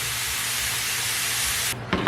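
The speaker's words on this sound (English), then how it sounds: "I can add the mushroom to the pan." Sliced mushrooms sizzle in a hot pan for vegan mushroom stroganoff, a loud, steady hissing fry that cuts off abruptly near the end, followed by a few faint clatters.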